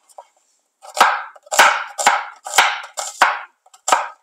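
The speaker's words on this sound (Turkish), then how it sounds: "Şimdi 2 adet kuru soğanımı piyazlık olarak doğruyorum arkadaşlar." A knife slices onions thinly on a cutting board, about eight crisp strokes in a steady rhythm, close and clear with nothing else around.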